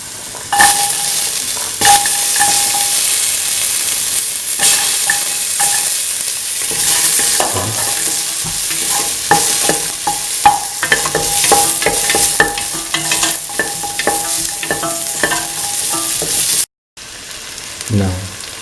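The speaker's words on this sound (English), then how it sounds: "Thoroughly saute. Put in the shallots." Shallots and duck meat are sautéed in a pan with chili, giving a loud, close sizzle and frying hiss with repeated stirring scrapes throughout, ending in a brief cut before the sizzle resumes.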